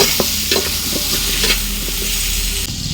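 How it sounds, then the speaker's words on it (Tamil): Chopped drumsticks and eggplant being sautéed and stirred in a pan for a Tamil crab curry; a bright, close sizzle punctuated by rhythmic clinks and scrapes of a spoon against the pan. "அதையும் நல்லா வதக்கி விட்டுடலாம்."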